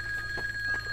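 A phone rings in the LEGO Jurassic World video game, a steady electronic tone holding at one pitch for the whole brief moment, loud and close over a faint hum, with no voices.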